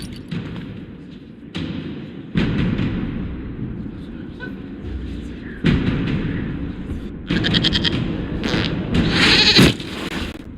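A goat bleats in Dragon Age Inquisition, with several short bleats and thuds cutting in and out among loud game sound and a voice talking, louder toward the end.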